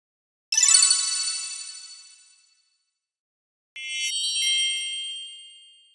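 A bright electronic notification bell chimes twice, each ding ringing out and decaying over a couple of seconds with silence between them, clean and isolated with no voices.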